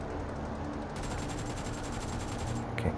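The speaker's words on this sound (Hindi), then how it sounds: "गोलियाँ चल रही हैं भाई" Gunfire in the shooter game Skyhigh Spectacle: rapid, continuous rattling bursts of shots over a dense noisy background, fairly faint and distant, without speech.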